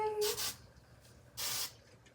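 Hairspray misted onto hair during a styling routine: two short hissing bursts from an aerosol can, each lasting about a third of a second, fairly close but soft against a quiet room.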